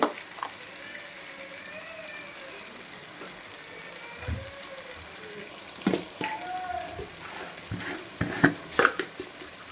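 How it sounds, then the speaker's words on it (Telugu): Chili powder, salt and turmeric frying in oil for a Sunday-special egg and fish curry, a soft steady sizzle with intermittent spoon clinks and stirring taps, growing busier toward the end. "ఇప్పుడు కొంచెం కారం ఉప్పు పసుపు వేసాం కదండి ఇవి కూడా ఆయిల్లో మంచి ఫ్రై అవ్వాలి"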